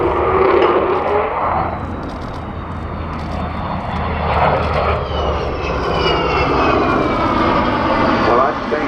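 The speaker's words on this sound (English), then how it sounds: "You've got a magnificent Vulcan howl on takeoff" An Avro Vulcan jet bomber, XH558, takes off at Farnborough Airshow 2014, a loud sustained roaring howl that swells and shifts in pitch as it climbs, with crowd voices and talk mixed underneath.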